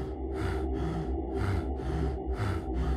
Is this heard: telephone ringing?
no